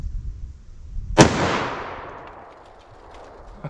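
A single loud .44 Magnum gunshot, a 240 grain XTP round fired into wood, cracks sharply and then rolls off in a long fading reverberant tail over faint background noise.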